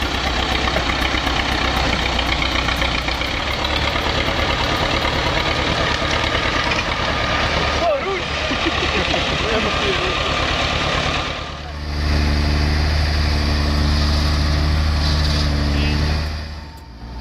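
A Belarus T40 tractor engine runs at idle with a steady, knocking diesel chug; after a brief dip the rumble returns heavier and more droning, close and loud throughout.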